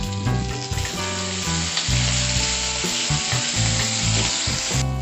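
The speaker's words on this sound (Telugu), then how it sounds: "నెక్స్ట్ ఆలు ఫ్రై చేసుకుందాం." Potatoes fry in hot oil for an aloo and bitter gourd (kakarakaya) fry, giving a loud, steady sizzle that runs unbroken for the whole stretch with no talking.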